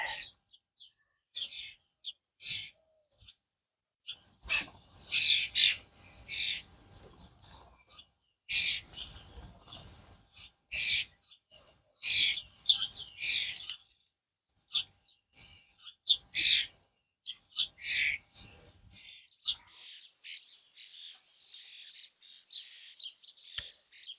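Starlings, including fledglings, chirp and chatter in a garden, their fairly faint calls coming in irregular clusters of quick, whistling notes over a quiet background.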